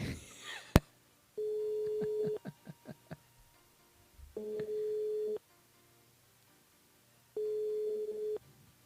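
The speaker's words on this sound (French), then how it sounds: "on appelle Marilyn, pas Marilyn Monroe, mais Marilyn du côté de Saint-Benoît" A telephone line tone heard while a radio station calls a listener on her mobile: three long, loud steady beeps separated by pauses, with brief dial-like blips and faint talk between them.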